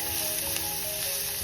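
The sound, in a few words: onion stir-frying with garlic, sizzling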